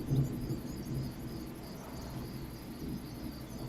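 Steady rain with low rolling thunder rumbles in the video game Ghost Recon Breakpoint, a constant moderate wash of downpour and distant booms with faint chirping insects, no voices.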